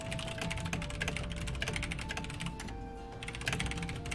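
Rapid typing rattles on a computer keyboard while playing FFXIV A Realm Reborn, with dense irregular clicks over a soft bed of game music and ambience and no speech.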